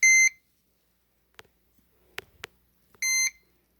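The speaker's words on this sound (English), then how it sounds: "See, look, we have a regular fire alarm." A fire alarm panel in a system test sounds after a smoke detector is set off, giving two short, loud electronic beeps about three seconds apart with faint clicks and handling noise between them.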